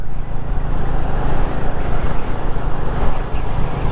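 A brand-new Royal Enfield Classic 350 motorcycle rides gently during engine break-in, its steady low engine drone mixed with heavy wind rush, loud and continuous throughout.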